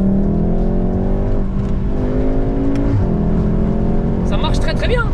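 A Volkswagen Golf 7R engine drones loudly and close, pulling with a steady rising pitch, then another throttle swell near the end as a second rise climbs in.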